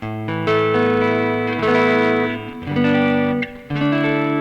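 A Yamaha Pacifica 112J electric guitar on the neck pickup plays a few clean sustained chords with a light reverb tail, close and clear, with no singing or talking.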